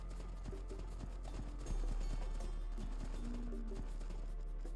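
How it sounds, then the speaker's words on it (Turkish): Horse hooves walking in the Age of Empires video game: a steady, close clip-clop of hoofbeats over a constant low game hum, with some short tonal blips and no talking. "Atı niye yürütüyor?"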